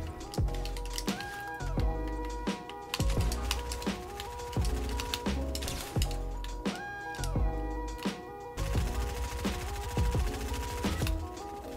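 Player's weapon fire in Fortnite, sharp repeated shots in quick bursts over game music and effects, fairly quiet in the mix and continuing until the gun runs dry.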